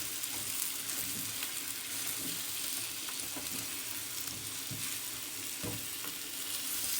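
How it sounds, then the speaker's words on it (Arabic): Small potatoes sizzle steadily as they fry in a pan, with occasional scraping knocks from stirring; a continuous close hiss and crackle with no talking. "نبدأ بقى ننزل بالبطاطس الصغيرة كده شكلها حلو. نبدأ بقى نقلب كل دوت مع بعضه."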